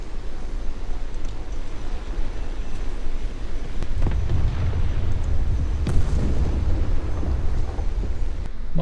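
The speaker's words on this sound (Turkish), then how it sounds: "2000 librelik bombayla deneyelim bakalım patlatabiliyor mu?" A 2000-pound, one-ton bomb detonates in the tank game War Thunder: a deep rumbling boom swells midway, with a second heavy blast following, over continuous low-frequency roar.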